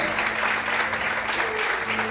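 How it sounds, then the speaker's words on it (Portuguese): Church congregation clapping hands together during a worship service, a steady dense wash of applause filling the room for about two seconds with faint voices mixed underneath. "Mais forte as palmas."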